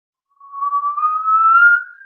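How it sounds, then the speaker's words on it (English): A whistling kettle reaching the boil, giving a single sustained, rising shrill whistle that starts after a short silence, swells and stays loud and steady, with no voices. "like a lot of people can remember these whistling kettles"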